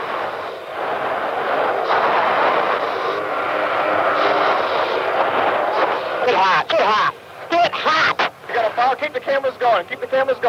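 F-15 cannon fires bursts at a target drone in a 1984 USAF fire control test, heard as a rough, dense roar of gunfire with choppy bursts toward the end, under a narrator's voice.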